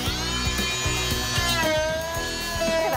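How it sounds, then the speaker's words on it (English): A Fein MultiMaster oscillating tool fitted with a scraper blade strips up carpet with a loud, close, high-pitched buzzing whine and rapid chattering scrapes, its pitch shifting slightly as the blade pushes under the material. "you're going to use a MultiMaster with a scraper blade, so go ahead and get started"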